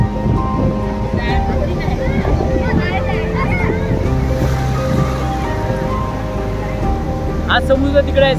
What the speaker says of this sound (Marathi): समुद्र एकदम जबरदस्त लाटा येत आहेत